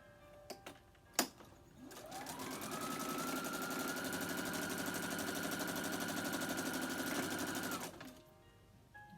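A sewing machine runs steadily for about six seconds, stitching a mini quilt, its rapid mechanical whir holding an even pitch after a couple of sharp clicks, close and loud with no voices.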